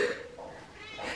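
A hungry cat meows for food indoors, giving a couple of short, close, plaintive meows with a faint voice underneath.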